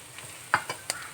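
Carrots, beans and spring onions stir-fried with potatoes in a pan for fried rice, with a few soft scraping stirs and clinks over a faint, steady sizzle.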